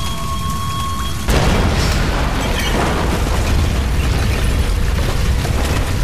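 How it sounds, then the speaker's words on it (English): A sudden loud red barrel explosion in Tomb Raider (2013) bursts after a quiet hum, followed by a sustained roaring rumble and crackling debris that fills the rest of the clip. "Red barrels usually mean explosion."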